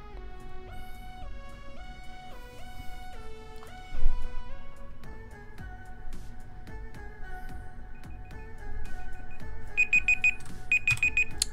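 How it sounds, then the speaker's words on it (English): A timer alarm during a Minecraft build-challenge stream: stepped electronic melody tones play first, then a run of rapid, evenly pulsed high beeps repeats loudly toward the end, with no voices. "Prepare for the beeping. The beeping is about to commence."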